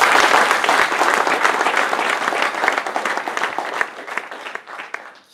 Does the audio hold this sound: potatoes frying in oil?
no